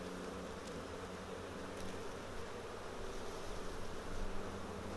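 A honeybee swarm hums around a hive with freshly built comb being filled with nectar, a dense, steady buzzing drone that fills the air, close and continuous, with no voices present.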